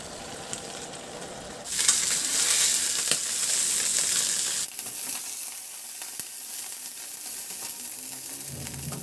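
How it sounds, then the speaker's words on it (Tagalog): Chicken pieces frying in hot oil in a pan, a steady crackling sizzle that swells louder partway through and then settles into a softer, continuous hiss, with no talking. "Isaya na natin yung ating manok hanggang sa mag-brown lang din yung both sides."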